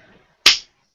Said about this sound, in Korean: 자, 이 박수 소리가 들렸지요?